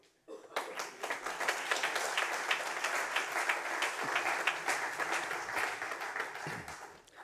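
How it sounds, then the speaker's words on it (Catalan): An audience at an award ceremony for employment-promotion prizes bursts into steady, sustained applause, a dense wash of clapping lasting several seconds before fading out. "Podeu aplaudir."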